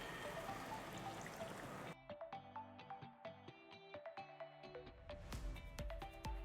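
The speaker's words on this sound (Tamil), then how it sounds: "ஸோ இப்போ தண்ணி ஊற்றியாச்சு," Water poured into a cooking pot for nombu kanji, a close, gushing stream lasting about two seconds before it stops, followed by light tinkling musical tones.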